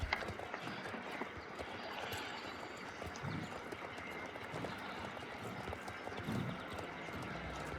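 Horse hooves from the video game Star Stable beat a continuous running clip-clop rhythm, quiet and steady throughout, over faint ambient game background noise.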